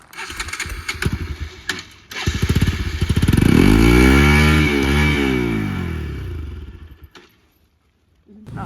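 A motorcycle engine revs up loudly while climbing uphill, its pitch climbing and falling in a long sweep, then cuts out before briefly starting again.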